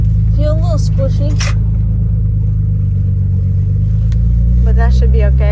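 A repaired, previously wrecked Nissan 300ZX sets off on a test drive, its engine humming low and steady inside the cabin while a person talks over it.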